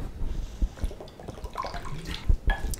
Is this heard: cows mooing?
no